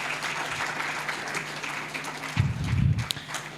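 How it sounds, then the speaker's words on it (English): Conference attendees applaud at an award moment, with steady clapping through the whole stretch and a brief low thumping near the end. "Kindly a warm round of applause."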